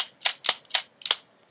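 Plastic Power Rangers Dino Thunder Parasaur auxiliary zord toy clicking as its scissors activate, four or five sharp close mechanical clicks about a quarter second apart, fairly loud with no voice.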